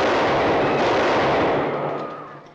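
A burst of gunfire from a 1949 film set in the French Revolution rolls out as a dense, loud crackling roar that fades away over a couple of seconds, with no voices.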